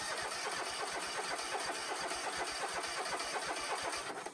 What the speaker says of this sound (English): that engine and starter required a peak of 127 amps at 70 degrees